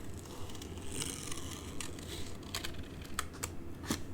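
Scissors fussy cutting around a stamped paper card design, a steady run of small crisp snips and paper rustles close up with no talking, a few sharper clicks near the end.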